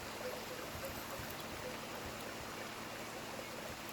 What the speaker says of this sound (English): Nice view of the waterfall.